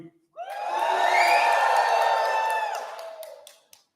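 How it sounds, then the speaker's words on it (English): Graduation ceremony audience on one side of a hall bursting into a loud cheer on a count of three, a swell of shouts and whoops that holds for a few seconds and then fades to silence. "So after 3, your best cheer."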